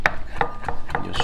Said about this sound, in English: Just chop it too,